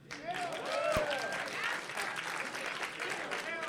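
An audience at a classic Tetris world championship main stage breaks into applause, a dense wash of clapping that rises quickly and sustains, with some cheers and voices mixed in.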